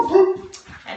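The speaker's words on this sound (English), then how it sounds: "That's my puppy." A puppy at home gives a high, close whimpering whine followed by short yips and soft barks, loud and nearby.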